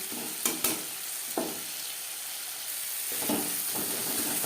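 Masala sautés in oil with tomato for an okra curry, a constant sizzling hiss broken by a few spoon scrapes and stirring clatters near the start and later.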